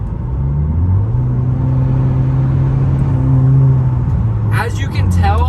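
Low, steady exhaust drone from a Genesis Coupe 2.0t with a cat-back exhaust, heard from inside the cabin with the windows closed while driving, a constant rumble throughout that ends with a brief burst of higher-pitched noise.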